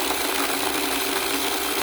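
A small electric mini food processor running, a steady buzzing motor whir with a high-pitched whine, held evenly and close throughout.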